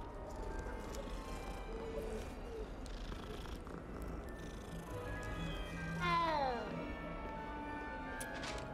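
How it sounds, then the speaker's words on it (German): Cat in the video game Hogwarts Legacy being petted, with a soft purr and a clear rising-falling meow near the end, over quiet game ambience and a person talking. "Eine Katze, die von mir gestreichelt wird."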